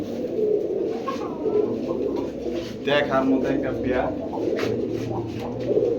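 Black pigeons cooing at a pigeon seller's stall, soft repeated coos under steady, fairly loud talk from someone speaking throughout.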